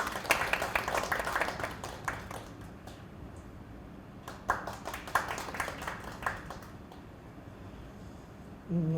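Sparse, light clapping from a small audience at a Korean school arts education forum, welcoming a speaker in scattered bursts that fade to quiet gaps before picking up again.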